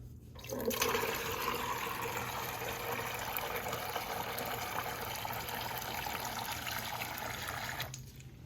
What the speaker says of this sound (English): So let's get some water going.